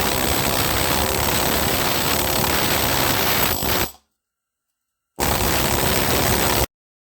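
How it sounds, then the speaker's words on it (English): A needle gun chipping paint off rough cast engine parts, a loud harsh continuous rattling buzz that runs for about four seconds, cuts out, then returns for a second burst before stopping. "we're going to take our needle gun. We'll get down into the tight spots."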